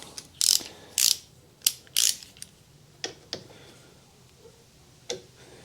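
Sharp ratchet clicks come in short, uneven bursts as bolts are slowly loosened on a 2009-2014 VW Golf/Jetta TDI during service, close and distinct against a quiet background.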